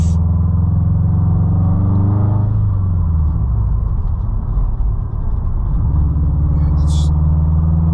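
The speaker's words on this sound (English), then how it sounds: "There's a lot of trucks here today." Steady low road rumble of heavy vehicles passing nearby, a continuous engine drone with a shift in pitch midway.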